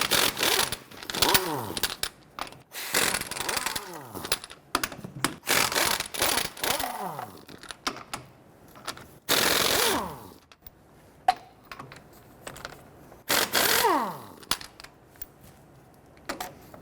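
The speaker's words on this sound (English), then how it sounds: "Using a 21mm socket, go ahead and loosen and remove your lug nuts." Lug nuts being loosened and removed with a 21mm socket at the left rear wheel of a Nissan Frontier pickup, heard as repeated short bursts of rattling, whirring tool noise that wind down between pauses, close and fairly loud.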